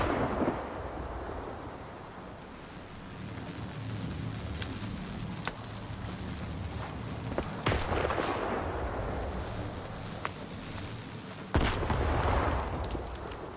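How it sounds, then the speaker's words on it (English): A grenade going off in the shooter game Stalker 2, a deep rumbling boom standing out over a continuous low, stormy background roar, with a second sharp blast near the end and no talking. "I wonder if a grenade will help. Not when it blows up there."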